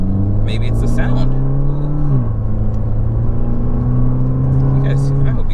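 A Fiat 500c Abarth hot hatch engine drones steadily from inside the cabin while driving, its pitch holding, dipping briefly at a shift, then climbing again, loud and continuous, with faint voices over it.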